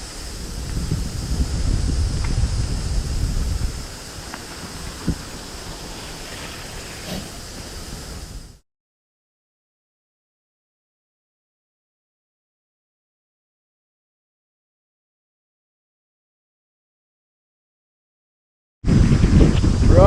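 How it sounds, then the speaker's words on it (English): Strong northerly wind in an outdoor garden buffets the microphone with rough, rumbling gusts for about eight seconds, then cuts to silence before a loud gust returns at the end. "The northerly winds is coming this afternoon, and it's so windy that all the plants are blowing over."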